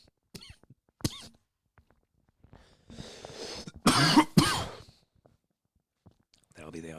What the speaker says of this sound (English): Just me coughing.